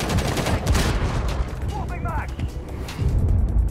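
Sustained gunfire in Rainbow Six Siege as a player empties a whole magazine: rapid, loud, close bursts with sharp, dense reports and brief uneven gaps, alone without talk.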